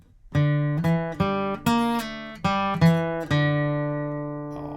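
A guitar plays a measure of a tune slowly: about seven plucked notes and chords at a relaxed, even pace, each ringing before the next, the last left to sustain.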